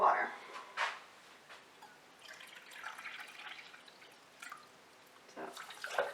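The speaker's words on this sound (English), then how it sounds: "I will now add a cup of water." A cup of water poured over a cup of sugar in a measuring cup or pot while making Buddha's hand citron syrup, heard as a soft, faint dribbling and splashing with scattered drips and quiet kitchen clatter.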